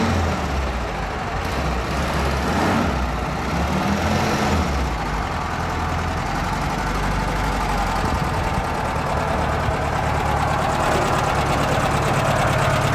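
A 1972 Super Beetle engine runs steadily at a close, loud, rough idle with an even mechanical chatter and no break.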